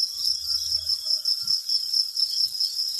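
Crickets chirp steadily on a Thai cricket farm, a continuous high, fairly loud trill with a few faint low thumps beneath and no talking.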